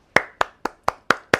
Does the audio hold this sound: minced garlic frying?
no